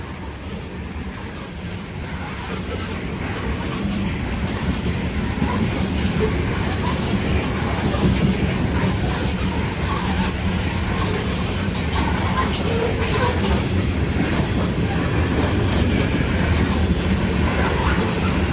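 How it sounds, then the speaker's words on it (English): A coke freight train rolls past nearby, a continuous heavy rumble with rattling wagons and faint clicking wheels, growing slightly louder and staying steady. "It's a coke train."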